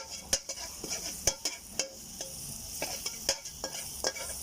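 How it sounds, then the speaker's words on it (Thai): Garlic fries in a small splash of oil, a soft continuous sizzle punctuated by repeated sharp clicks and scrapes of a spatula stirring against the pan at an uneven rhythm, close and fairly quiet. "เราก็จะใส่น้ำมันลงไปนะคะ นิดหน่อย แล้วเราก็จะใส่กระเทียมลงไปค่ะ"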